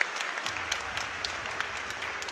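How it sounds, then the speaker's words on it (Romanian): Spectators at a youth boxing bout applauding a 13-year-old's win, scattered sharp claps over a faint crowd murmur, fairly distant and quiet. "cel mai intens val de aplauze da, de până acum."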